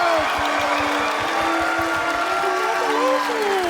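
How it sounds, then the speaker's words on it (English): Crowd applause for the Best in Show winner of a cosplay contest at MagicCon Amsterdam, a steady wash of clapping that holds at an even level throughout, with a tonal whine drifting above it. "Then keep your applause going"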